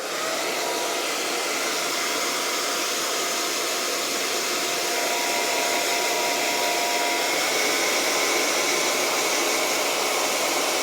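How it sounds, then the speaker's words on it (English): Hair dryer blowing on a box braid frontal wig, a loud, steady, close airy whoosh with constant motor hum and no change in pitch throughout. "I'm going to blow dry this."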